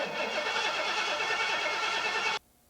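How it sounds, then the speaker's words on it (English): A car engine fitted with an Autolite 4100 carburetor cranks over on the starter, a loud steady whirring churn that runs for over two seconds and then cuts off abruptly to near silence. "we're just going to crank the engine over for about 5 or 6 seconds"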